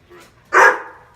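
A dog lets out one loud, sharp bark close by, preceded by a soft, brief whine or yip.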